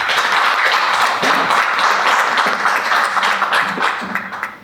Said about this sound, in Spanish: muchas gracias por sus aplausos